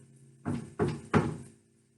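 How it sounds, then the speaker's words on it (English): An audience knocks on a door in a live storytelling performance, three distinct hollow thuds spaced evenly, each with a short resonant tail, then quiet. "Can you guys knock on her door with me?"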